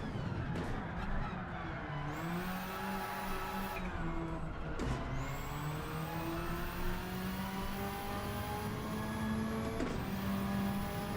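A race car's engine in Gran Turismo 7 climbs through the revs and is short shifted, the pitch rising steadily and dropping at each quick upshift, a continuous close drone with no talking.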